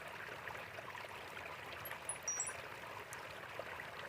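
A garden fountain on a moonlit terrace trickles softly and steadily, a faint continuous flow of water with a few small bright splashes.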